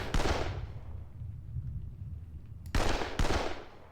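Gunfire in the wargame Panzer Campaigns Minsk 44: a sharp opening blast decays into a long rumbling tail, then two more loud reports close together near the end, heard on their own with no talk.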